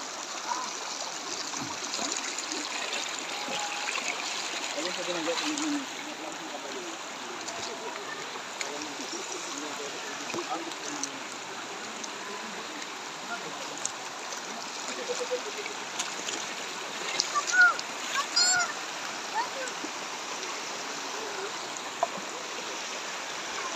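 A river flows with a steady, moderately loud rush and babble of water, continuous throughout, with small splashes and trickles rising now and then.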